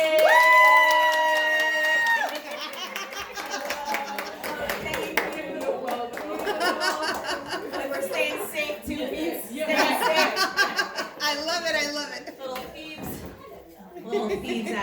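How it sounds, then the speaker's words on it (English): An audience at a women's empowerment benefit claps, cheers and whoops for Cody, with laughter and excited shouts mixed into lively, fluctuating crowd noise, and a voice speaking near the start. "can y'all please clap it up collectively for Cody?"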